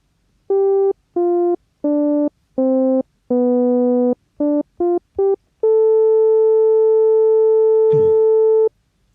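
Short synthesizer tones shaped by a filter envelope pulse in a steady rhythm, eight brief notes followed by one long sustained tone, clean and electronic, with no voices.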